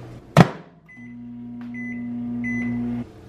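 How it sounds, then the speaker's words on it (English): Microwave oven running while heating mochi dough, a steady close hum that follows a sharp thump, with short beep-like tones over the drone before it cuts off. "you want to microwave it one more time for a minute and a half"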